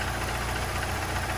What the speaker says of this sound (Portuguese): Eu vou deixar esse motor aquecer